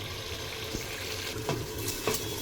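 Meat sautéing in a pot for home-cooked biryani gives a steady low sizzle with soft stirring clinks at a few moments, close by and without talk.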